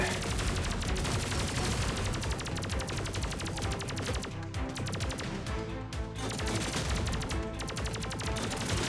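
Rapid, dense gunfire crackles almost continuously while shooting on ladders in the Terminator 2D video game, loud and busy, with only brief pauses between bursts.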